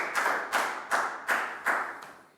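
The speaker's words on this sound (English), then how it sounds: "Big round of applause for Prel." A primary-school class gives a round of applause: about six loud, distinct clap bursts in a steady, fairly slow rhythm, close and reverberant in the classroom, with no talking over it.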